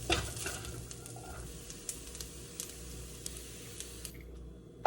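Crumbled longganisa is stirred in a frying pan for a Filipino breakfast, with soft sizzling under a series of light scraping clicks and a louder clatter at the end.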